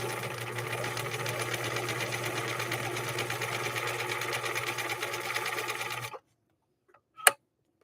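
A 1963 Husqvarna Viking 19E sewing machine runs a steady straight stitch, a continuous close whirring drone for about six seconds, then stops, followed by near silence and one short mechanical click.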